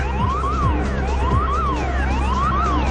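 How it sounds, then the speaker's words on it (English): Warning alarms blare through a nuclear reactor control room at Chernobyl, a loud, continuous rising-and-falling electronic siren wail that sweeps up and down repeatedly over a steady low hum, with no voices. "Warning alarms blare through the control room."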